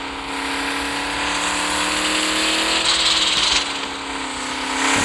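Ram 2500 truck engine during an intentional double-clutch shift, a steady whining drone inside the cab whose pitch drifts as revs fall, with a short rattling burst midway before the engine pulls again.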